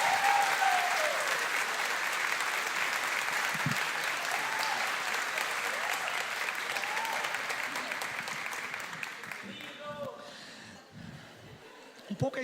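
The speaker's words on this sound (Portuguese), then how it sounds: "recebessem com mais uma salva de calorosas palmas" Warm, sustained applause from a conference audience at a theology event fills the room, loud and steady before slowly thinning out, with a few voices and brief laughter surfacing near the end.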